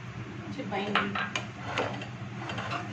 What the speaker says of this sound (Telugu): ఇలా చక్కగా మిక్స్ చేసేయండి